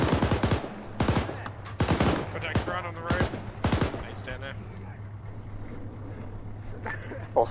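Gunfire in the military shooter ARMA 3: loud bursts of automatic fire in clustered volleys during the first half, fading to sparse distant shots over a low steady engine hum, with a voice speaking in between.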